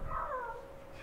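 A cat in the village of Valderrobres gives a single short, faint meow that rises and then falls.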